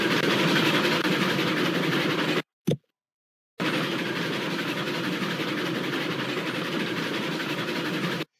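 A train runs steadily in the Railroads Online railway game, a dense rolling rumble with clattering wheels that breaks off for about a second midway and then resumes at the same level.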